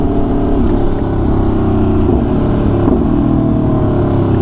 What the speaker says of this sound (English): The bike started, you guys see?